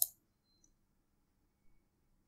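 A single sharp mouse click on a software icon, brief and close, followed by faint quiet clicks in an otherwise silent room.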